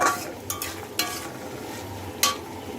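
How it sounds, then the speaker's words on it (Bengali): Onion and dried lotia fish frying in a pan, with a steady sizzle broken by several sharp scrapes and clinks of a spatula stirring against the metal. "আমি এটাকে এর সাথে পেঁয়াজ আর শুটকি আগে ভালো করে ভেজে নেব।"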